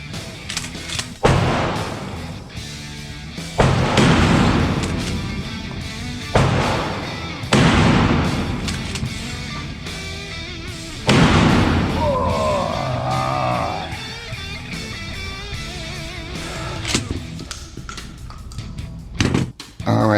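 A shotgun fires shells at an outdoor range, a run of loud booming blasts spaced a couple of seconds apart, each trailing off with echo, with some talking mixed in between shots.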